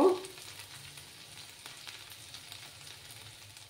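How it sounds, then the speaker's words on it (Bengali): Ginger and garlic frying in oil over low heat in a home kitchen, a soft steady sizzle with faint crackles, quiet and continuous after a brief louder sound at the start, no talking. "আদা আর রসুনের কাঁচা গন্ধটা না যাওয়া অবধি একটু ফ্রাই করে নেব।"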